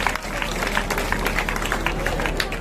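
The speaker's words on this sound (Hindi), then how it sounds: "फर्स्ट जो है वो जोरदार तालियां" Applause from an audience at a school prize ceremony held for Eid-e-Milad in Bhusawal, steady dense clapping with some crowd noise running throughout at moderate level.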